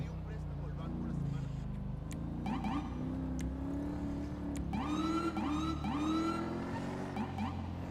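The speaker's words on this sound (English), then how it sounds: "I think I'm gonna need to change my sirens back to the original." A police car siren wails in a GTA roleplay game, rising and falling in repeated sweeps over a steady engine drone, with talking underneath.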